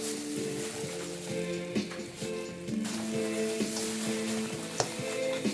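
Turkey curry masala sizzling in a pan as it is mixed, a steady crackle of frying with scraping stirring strokes and clattering tonal knocks from the utensil against the pan throughout.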